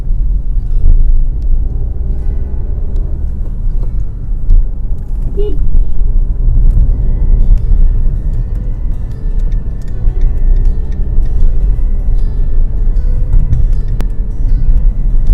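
Inside a Maruti Suzuki Vitara Brezza driving over bumps and potholes, steady low road rumble and engine drone fill the cabin, with occasional soft knocks and ticks from the suspension.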